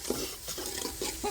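Tadka of chillies and spices hitting hot oil, a loud continuous sizzle and crackle with a few stirring scrapes, close up and with no talk.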